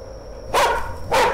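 Two loud, close dog barks spaced about half a second apart in the Chilla's Art horror game The Karaoke, over a faint steady electronic hum.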